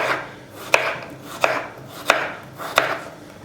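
Four crisp knife chops through potatoes against a cutting board, evenly spaced about two-thirds of a second apart, close up with no talking.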